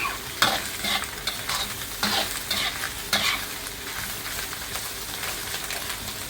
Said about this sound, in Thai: แล้วก็ผัดหอยนะคะ ให้เข้ากับพริกนะคะ ผัดไปเรื่อยๆนะคะ